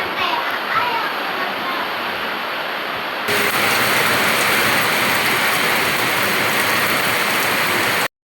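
Steady rain falls outside in a dense, continuous hiss that grows louder partway through, heard without talk.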